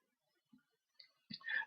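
A few soft, sparse computer mouse clicks on a quiet background, the last one followed by a brief brighter rattle, close and faint, no talking.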